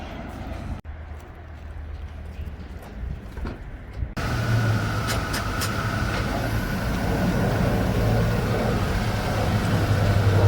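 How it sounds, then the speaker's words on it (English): A heavy truck rumbles closer as it is guided in, its engine noise rising sharply partway through and then holding as a loud, steady low drone. "Bring your truck in, come on."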